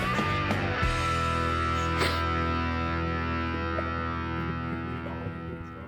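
A sustained electric guitar chord rings out through a distortion pedal in a guitar store, thick and buzzing, with a few picked notes and a strum near the start before it slowly decays.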